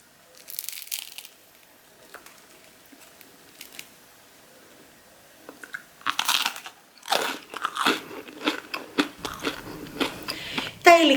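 Crunchy bites into a crispy, flaky Greek cheese pie (tiropita). Sparse crackles come first, then a run of loud, close crunching and flaky crushing sounds that builds toward the end.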